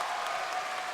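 Spectators at a taekwondo competition in Chengdu applaud, a brief wash of distant, even clapping from the crowd.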